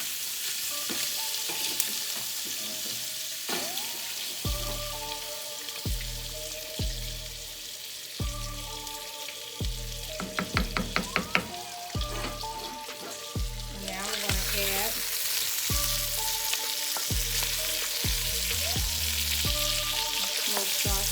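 Smoked sausage browning in a pan for Creole red beans and rice, a steady close sizzle and crackle with bursts of spattering and clinks of stirring throughout.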